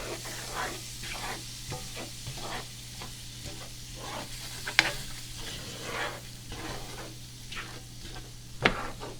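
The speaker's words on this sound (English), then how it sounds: "I'm gonna stir it a little bit. And I'll put the garlic in there, kind of get this mixed up real good." Garlic is stirred into a pot of Gulf-style gumbo over the heat, bringing a soft sizzle with rhythmic scraping strokes repeating about once a second and two sharp metallic clinks against the pot, close and fairly quiet, with no talking.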